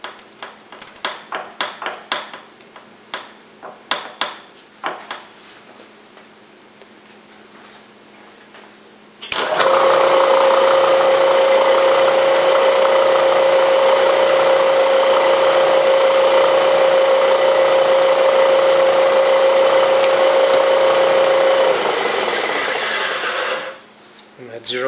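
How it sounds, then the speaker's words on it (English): A Bridgeport milling machine center-drills a metal workpiece, spinning up abruptly into a loud, steady whine with a sustained tone that cuts off near the end, after some light clicking and handling at the start. "I will give it a center drill"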